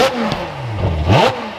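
A Ferrari 812 Superfast's 6.5-liter V12, on a crashed car under rebuild with no windshield fitted, gives a couple of short, loud throttle blips that sweep up and fall back, its exhaust note reverberating around it.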